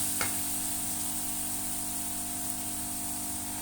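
Masala gravy fries in ghee in a pan with a continuous close sizzle, steady and unbroken, with no talking.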